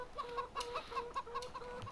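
Chickens on a farm in the Farming Simulator 15 video game cluck in a regular repeating pattern of short clucks, moderately quiet and alone without talk.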